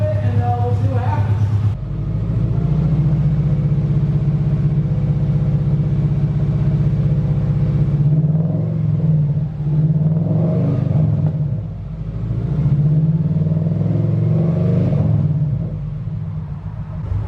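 An engine idles roughly with a slight misfire and an exhaust leak, a loud, steady low rumble with faint uneven pulsing, while a voice talks over it intermittently.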